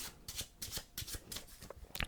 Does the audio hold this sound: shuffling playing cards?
yes